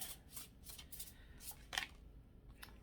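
Oracle cards for a tarot reading being shuffled by hand, soft repeated riffling bursts close up in a quiet room, with no talk.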